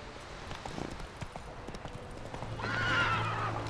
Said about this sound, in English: wow, you're smarter than the Red Dead Redemption horses. Look at you, Roach